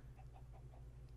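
Minecraft chickens cluck in soft, repeated clucks over a steady low background hum of game ambience, with no talking.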